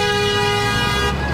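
A vehicle horn blasts in one long, steady, loud tone close by at a roadside gathering near a council meeting, cutting off abruptly near the end.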